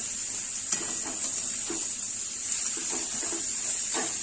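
Onion sautéing in a pan for misal pav gives a steady, soft sizzle with a few faint clinks of a spoon stirring against the pan, close and alone with no talk.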